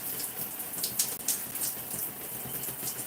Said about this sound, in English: we're going to add some water